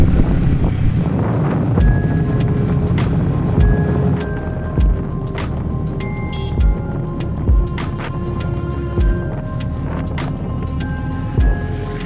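Steady motorcycle engine and road rumble on a ride from Kolkata toward North Bengal, with wind buffeting the microphone and a few brief knocks and bumps over the road.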